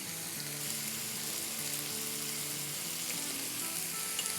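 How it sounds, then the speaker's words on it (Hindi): Oil sizzles and fries steadily in a pan while tawa pulao cooks, a dense continuous crackle with a faint low tone running underneath, close and even throughout. "बस इसको इतना फ्राई करेंगे जब तक कि इसका कलर चेंज ना हो जाए।"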